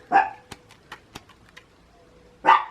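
A pet dog barks indoors, two sharp barks spaced about two seconds apart with faint thumps and small noises between them.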